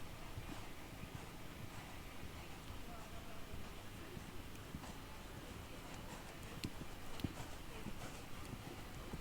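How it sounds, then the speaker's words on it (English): Horse hooves during an extended canter across a dressage arena, a steady stream of faint, distant hoofbeats under broad crowd and ambient noise. "A bold extended canter there across the long side, across the diagonal."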